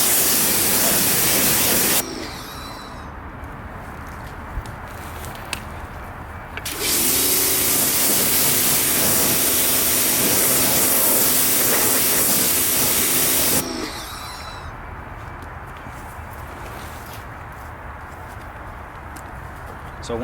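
Loud hissing water spray pre-rinses the wheels of a Chevy SS car in two long bursts, with quieter stretches between them.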